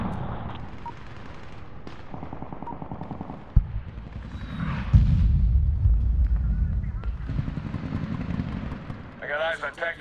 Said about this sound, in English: Mark. Firing cannons.